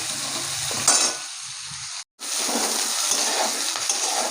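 Raw jackfruit pieces frying in oil, a close, steady sizzle with spatula stirring, one brief knock and a short cut to silence midway before the crackle resumes.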